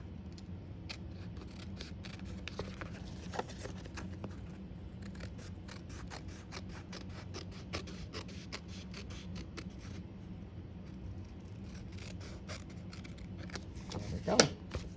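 Designer series paper being trimmed for a card, a run of quick close snips and small paper scrapes at a quiet level, ending with a sharper tap.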